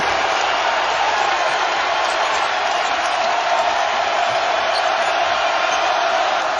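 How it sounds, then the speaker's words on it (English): A home crowd roars at a basketball game, a dense, loud, sustained wall of cheering that never dips. "Home crowd rises on its feet."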